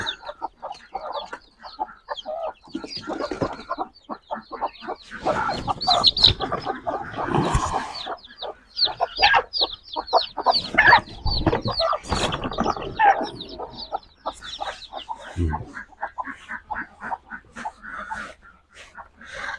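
Local chickens on a home farm cluck and squawk in a busy, overlapping flock, close by and fairly loud, with sharper bursts scattered throughout.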